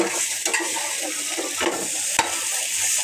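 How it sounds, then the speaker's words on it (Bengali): Pieces of rohu fish frying in a pan give off a steady, loud hiss and sizzle throughout, with a few soft stirring scrapes and utensil clicks close by and no voices. "মাছ বোনা প্রায় শেষ হয়ে আসছে"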